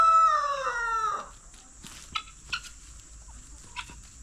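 A backyard flock of chickens and guineas eating grapes: one loud, close rooster crow opens, then faint scattered clucks and small taps follow over a quiet outdoor hum.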